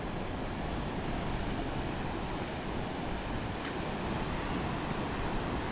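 Sea waves roll onto a beach in a steady broad wash of surf, close and continuous with some wind rumble on the microphone, and no voices.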